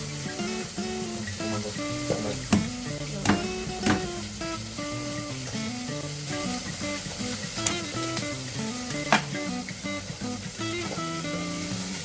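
Steady sizzling of duck stir-frying in a hot pan, with occasional sharp clinks and scrapes of a utensil stirring, continuous and fairly loud.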